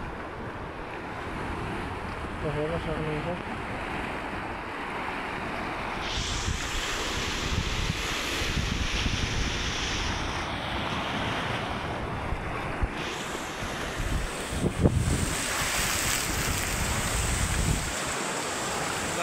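Open-sea waves roll and wash steadily far out off Al Wajh, Saudi Arabia, with heavy wind buffeting the microphone throughout and a brief spoken phrase near the start.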